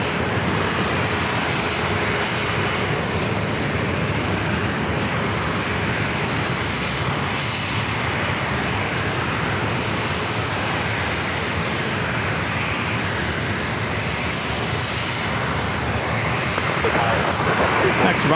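Continuous roar of an airliner engine at San Diego airport, loud and steady throughout with no break, a broad wash of noise that does not fade.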